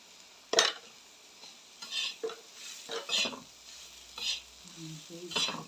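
Urad leaves being tossed and stirred in hot oil over a wood-fired stove, several distinct scraping stirs and sizzling bursts at close range, with no talk over them.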